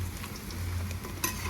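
Cauliflower 65 frying in a pan with curry leaves, a steady close sizzle with a little stirring and a brief clink near the end.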